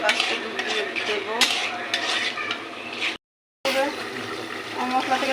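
Spice paste with sour yogurt is stir-fried in a pan, making a steady close sizzle under continuous scraping and stirring, broken by a brief gap of silence.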